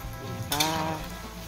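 Starch-coated pieces of thepho fish sizzle and crackle steadily in hot frying oil, a close, continuous sizzle that swells briefly midway.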